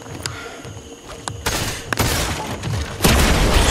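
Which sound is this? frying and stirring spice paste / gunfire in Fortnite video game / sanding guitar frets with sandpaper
gunfire in Fortnite video game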